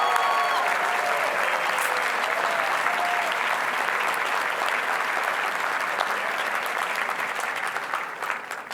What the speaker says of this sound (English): So let's all give a big round of applause to all of the staff